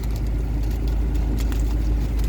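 Steady low rumble inside a car cabin, constant and close, with faint scattered clicks over the drone and no talking.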